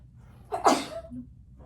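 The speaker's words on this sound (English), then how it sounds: "I'm so sorry, I'm gonna sneeze." A single sharp sneeze, close and loud, with a quick intake of breath before it and quiet afterward.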